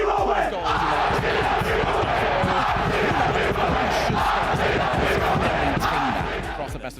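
A large arena crowd chants loudly and steadily at a Rocket League RLCS Major esports match, dense massed voices sustained throughout before easing off at the end.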